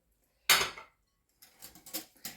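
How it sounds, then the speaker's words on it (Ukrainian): A metal whisk beats vegetable oil with egg and kefir in a bowl. One loud clattering stroke is followed by a short pause, then a quicker run of lighter clinks and scrapes. "І все гарно збиваю вінчиком, щоб олія поєдналася з, з яйце"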